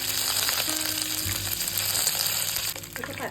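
Cumin seeds and curry leaves crackle and sizzle in hot oil, a dense continuous frying hiss with small pops, close and fairly loud, no voices over it.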